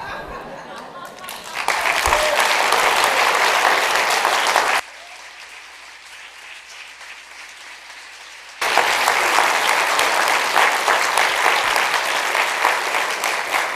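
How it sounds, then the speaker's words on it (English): Sustained applause from a crowd, clapping loudly, stopping abruptly for a few seconds of quiet, then resuming just as strongly. "I appreciate the applause"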